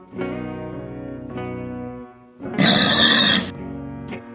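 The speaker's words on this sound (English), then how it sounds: "Pig." A pig grunts and squeals in one loud, harsh burst in the middle, set against continuous background music with no talking.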